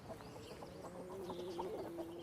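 Hens cluck and murmur at quayside chicken huts on an Edwardian-style farm in late October, a soft, continuous chatter of several birds with a rising warble, faint and fairly close.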